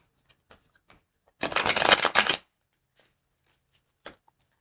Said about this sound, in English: let me give that a quick shuffle too